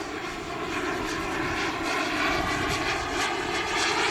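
Loud, continuous engine roar from a Flyfly Hobbies Viper 2.2 RC turbine jet passing on its landing approach, a steady whine and rush with no pauses.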